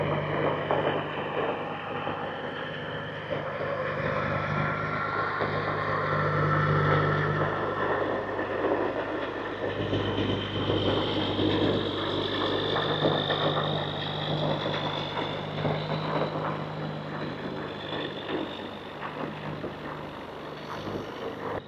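A truck with a Cat 6NZ engine, a glider build with a rebuilt engine, rumbles past with a steady diesel drone and low hum, fairly close and loud, with wind buffeting the microphone throughout.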